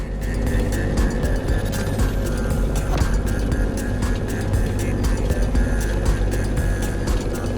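Airplane engine in The Crew Motorfest video game, a steady loud droning hum with a constant engine tone throughout, flying through turbulent skies near a volcano, with no talking.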